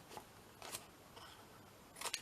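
A few quiet, crisp snips of scissors trimming the corners of a paper flip-out booklet, close by over a faint steady background hiss, with short gaps between cuts.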